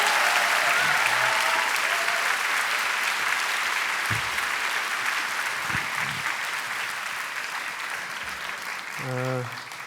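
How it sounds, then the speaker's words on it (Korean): Church congregation clapping together for a guest at a sermon service, loud sustained applause that slowly thins out, with a few brief voices and a short tone near the end. "박수로 한번 다시"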